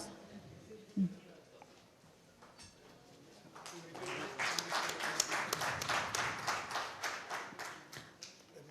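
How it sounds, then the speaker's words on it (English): Audience applause at a tax conclave felicitation, quiet murmur and a single thud at first, then a sustained wash of many hands clapping building from about four seconds and continuing steadily to the end. "Please keep the applause going"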